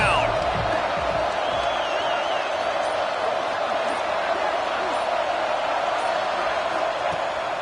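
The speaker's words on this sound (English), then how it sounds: "Crowd getting this defense whipped up on 3rd down." A football stadium crowd roars on 3rd down, a sustained, loud wall of cheering and noise throughout, with a commentator's voice over it.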